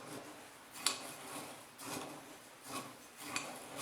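A mixture of aromatherapy neck-pillow filling is stirred by hand, giving faint, soft scraping strokes that recur every second or so, with no voices.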